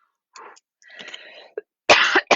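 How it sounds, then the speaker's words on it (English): A loud, close human cough, preceded by softer throat-clearing rasps and ending in two harsh, forceful bursts, with no other voices. "I probably just coughed really loud in your ear."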